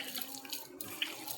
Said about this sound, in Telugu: కానీ నేను వాటర్ వేస్తున్నా